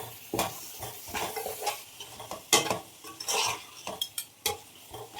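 Spoon stirring mutton with masala, yogurt and salt in a pan for biryani, a series of scraping, clinking strokes against the metal with a soft sizzle underneath, close and fairly quiet.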